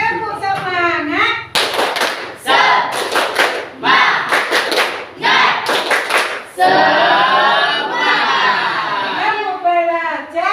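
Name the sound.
class doing a rhythmic "tepuk semangat" spirit clap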